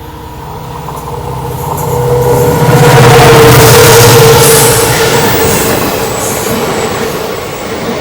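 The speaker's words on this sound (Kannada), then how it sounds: "ಟ್ರೈನ್ ಪಾಸ್ ಆಗಬೇಕು ಅದು ಆ ಟ್ರೈನ್ ನಿಂತ್ಕೋಬೇಕು ನಾವು ಪಾಸ್ ಆಗಬೇಕು" A train rumbles past on the Hassan to Bangalore rail route, heard up close: a loud, heavy rolling roar with a squealing metallic tone that swells to a peak midway and then eases off slightly, with steady wheel noise and no talking.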